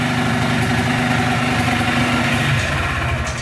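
A KTM 500 motorcycle engine idles steadily and loudly up close, a continuous low rumble with a throbbing rhythm and no talk.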